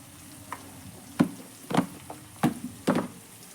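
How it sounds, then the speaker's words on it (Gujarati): Spices with garam masala and coriander-cumin powder sauté in a hot pan for Rajasthani gatte nu shaak, a low steady sizzle broken by several sharp stirring scrapes and knocks at an uneven rhythm. "હવે એને બધા મસાલાને આપણે થોડી વાર સાતળવા દઈશું"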